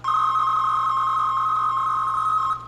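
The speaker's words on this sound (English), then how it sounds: "that's more like a modem sound" A steady electronic tone of about two and a half seconds, modem-like and from an attempt to produce radioteletype (RTTY) audio, holds one pitch loud and close before cutting off abruptly.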